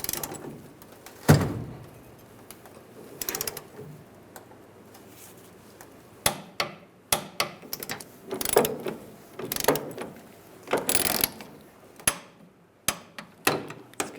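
Torque wrench tightening bolts on a fuel level sensor of a 1999-2006 Chevrolet Silverado, irregular bursts of ratcheting clicks and metallic taps separated by quiet pauses, close up.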